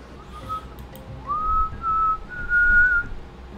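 A person whistling alone, a few short clear notes followed by longer held tones that rise slightly in pitch, close to the microphone.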